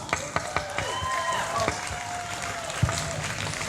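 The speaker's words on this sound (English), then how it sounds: "let's give these ladies a round of applause." An audience applauds at a Constitution birthday celebration honoring Wicomico County student champions, a steady wash of clapping with a few sharper claps standing out.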